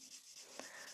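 Buffer smoothing the surface of a nail before neon pigment nail art, giving a soft, steady rubbing hiss for about a second with one brief firmer scrape near the middle, close and quiet, no talk.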